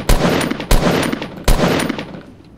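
Three loud, sharp gunshots in the Roblox Fortnite game, spaced roughly seven tenths of a second apart, each with a short rumbling tail and no talking.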